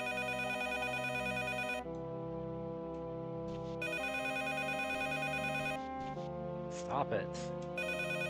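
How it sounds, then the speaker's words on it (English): A telephone in the video game Mizzurna Falls rings in a steady repeating electronic pattern of regular bursts with short gaps, alongside game music, while a person talks briefly over it. "Wait, that's not my phone number that's ringing"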